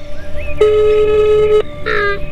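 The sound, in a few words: phone ringback tone while calling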